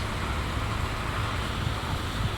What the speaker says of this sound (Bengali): তো বাসটা এইভাবে চলছে